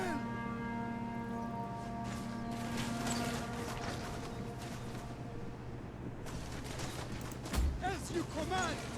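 A volley of ranged fire in Total War: Attila sounds as a dense crackle of shots that builds to a heavy burst near the end. Ringing tones and battle noise sit under it, and a voice speaks partway through.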